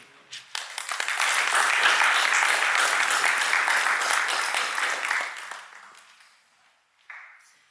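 Audience applause at a graduation ceremony, a dense burst of clapping from a large crowd that swells quickly, holds steady for several seconds, then fades out, followed by a brief louder clatter at the end.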